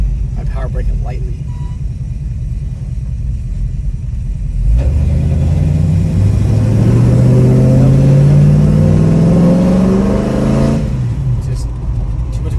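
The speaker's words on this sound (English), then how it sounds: "I power brake it lightly." Ford 302 V8 engine revving under power braking before a burnout, a loud rumbling idle that swells into a sustained, rising high rev before dropping back, with a voice speaking.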